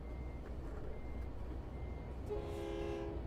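A train horn sounding in the American Truck Simulator video game, a faint tonal blast emerging late over a loud rumble of rolling traffic and engine noise.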